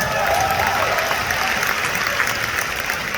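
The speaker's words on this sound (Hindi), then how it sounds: "अपने लिए तालियां बजा लो यार," Steady applause from a live comedy show audience in Dallas, Texas fills the whole stretch, dense and even, with no pauses or speech.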